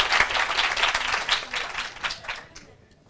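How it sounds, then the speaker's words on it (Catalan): Studio audience applause on a Catalan TV quiz show, a dense, energetic round of clapping from a crowd that holds steady, then cuts off abruptly near the end, leaving a few scattered claps. "Ara, això és un aplaudiment."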